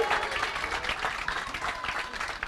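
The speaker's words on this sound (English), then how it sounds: "Some of them clapping." A church congregation claps in a dense, steady burst of hand claps, fairly close, with little talk.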